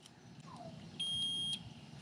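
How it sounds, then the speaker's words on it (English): Continuity tester beeping while checking a fuse on a Dometic refrigerator: one steady high electronic beep of about half a second, close up over a low background hum. "if you touch it together, it'll beep"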